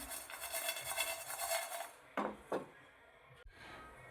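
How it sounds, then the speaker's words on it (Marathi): Poppy seeds dry-roast with spices in a pan for a Kolhapuri chicken masala, a steady gritty rustling scrape as they are stirred, then a couple of sharper knocks of the spoon against the pan. "आता मी याच्यात खसखस टाकून घेते आणि खसखस पण छान याच्यात खमंग अशी भाजून घ्यायची"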